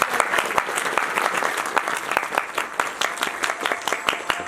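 Loud, steady applause with sharp, dense claps rises from a congregation at a Hindu satsang celebrating the Ram Lalla consecration, continuing without a break.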